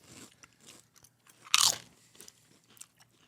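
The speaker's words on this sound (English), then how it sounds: "Christian, eat the damn thing on the mic seat so we can hear it" A hot green chip bitten into once close to the microphone, giving a single sharp crunch in the middle followed by quieter chewing.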